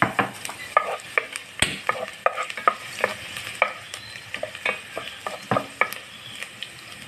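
Garlic sautés in rendered pork fat in a pan for corn soup, a steady close sizzle punctuated by frequent scraping stirs and utensil knocks, with no talking.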